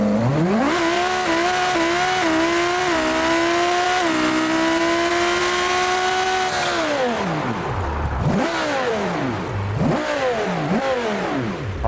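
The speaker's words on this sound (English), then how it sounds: "Alright, this time I am not going to launch the car, I'm just going to drive off." Twin-turbo Lamborghini Huracan Performante pulling away from a rolling start, its engine droning loud and close as it climbs through gears with brief dips at each shift, then revving hard in sharp rising and falling swoops.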